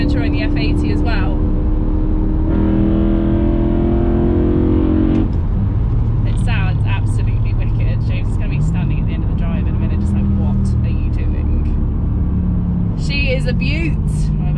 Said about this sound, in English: It just sounds insane, and like I've just got a real thing for the way the V8 sounds as opposed to the F80.